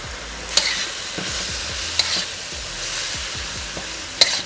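Vegetables seasoned with ginger, garlic, rice vinegar and soy sizzle in a hot pan, a steady close frying hiss broken by a few sharp stirring scrapes and clinks.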